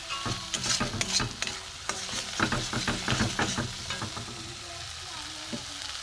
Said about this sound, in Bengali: বাঁধাকপি পনিরের জন্য মশলাটা কষিয়ে নেবো ভালো করে।